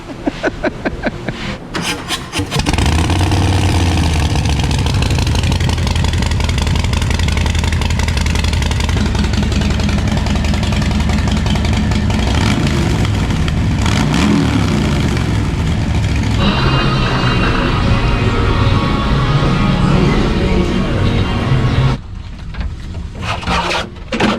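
A Harley-Davidson motorcycle with a 131ci engine runs on a dyno in a dealership dyno room, a loud steady engine roar that holds for about twenty seconds after a brief quieter start, then drops away near the end.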